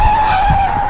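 A car skidding, a loud, close tire squeal holding one steady shrill pitch for about a second over low rumbling, with no talk.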